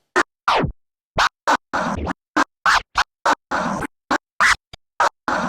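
Two-click flare orbit scratches on a DJ turntable, played as a run of short, sharp, chopped bursts with crisp gaps between them, close and loud, with no talking.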